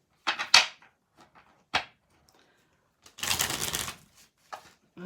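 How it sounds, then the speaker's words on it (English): A deck of tarot cards shuffled in a quick riffling burst, preceded by a few soft taps and card snaps, with quiet pauses between. "Let me just shuffle the cards"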